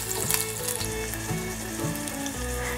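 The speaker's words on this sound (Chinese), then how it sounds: "现在放入姜片， 姜片略炒一下" Ginger slices and Sichuan peppercorns stir-frying in a pan, a steady sizzle under tonal background music with a few scraping clicks, no voices.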